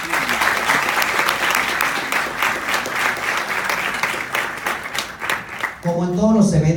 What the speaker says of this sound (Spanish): Recibámoslas por favor con un fuerte aplauso.